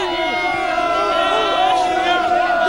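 Crowd at an India vs South Africa cricket match in the Champions Trophy, a dense, steady roar of many voices with whoops and chanting tones running throughout, loud and close.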